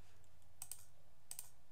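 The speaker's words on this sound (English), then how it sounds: "using page up or page down on the keyboard, you can go" Computer keyboard keys, the page up and page down keys, pressed while motion tracking an architectural 3D model in Cinema 4D: two brief, quiet clusters of clicks about 0.7 seconds apart over a faint background hum, with no talking.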